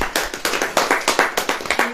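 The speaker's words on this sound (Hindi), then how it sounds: "ताली बजाइए।" A crowd claps hands at a religious gathering, a steady run of about a dozen rhythmic, unison claps, loud and close, with no talking over them.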